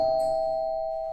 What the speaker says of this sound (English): The doorbell immediately rang.